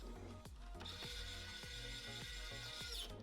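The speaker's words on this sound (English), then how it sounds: "Then the top cover can go on, with 4 screws holding that onto the top of the posts." Screws being driven into the top cover of a small 5-inch portable Raspberry Pi homelab rack, heard as a close, rapid series of clicking ratchet-like ticks with a rising whirring whine, alone without talk.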